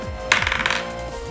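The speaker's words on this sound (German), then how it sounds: "Ich habe meinen Würfel fallen lassen." A die is dropped onto a table during a game, giving a single sharp clatter with a brief run of quick rattling bounces that settle within about half a second.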